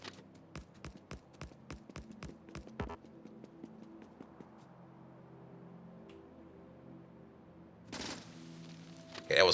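Machine gun fire in the video game Factorio with the Pyanodons mod: a rapid burst of about a dozen sharp, evenly spaced shots, then a quiet lull and a few louder bursts at the end.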